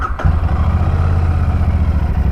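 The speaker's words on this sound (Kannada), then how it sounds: "ಇಂಜಿನ ಸೌಂಡ್ ಈ ಥರ ಕೇಳಿಸುತ್ತೆ." A 2024 Royal Enfield Shotgun 650 Twin, a bobber with a double-barrel exhaust, fires up with a quick starter burst. It settles straight into a loud, close, rhythmic parallel-twin idle that thumps steadily.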